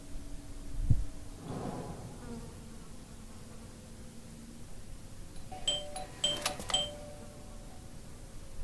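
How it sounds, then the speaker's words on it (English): A doorbell chimes inside a house in the detective game Blues and Bullets, a pair of bright ringing tones near the end over quiet ambient hum and faint background noise. "I thought I should use the doorbell so I wouldn't startle you."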